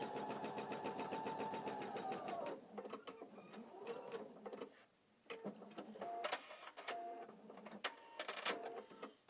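Domestic sewing machine running in bursts as it chain-stitches quilt pieces for a nine-patch block, a steady mechanical whir that starts and stops several times at close range.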